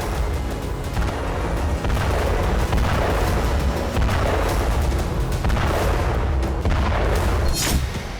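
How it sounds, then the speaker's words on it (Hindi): Continuous rumbling booms and thuds of Russian howitzer fire on Ukrainian positions in Odesa, dense and distant-sounding, with repeated heavy blasts blending into a constant roar. "ओडेसा में रूसी फौज ने यूक्रेनी पोजीशन पर हॉवित्जर तोप से धावा बोला।"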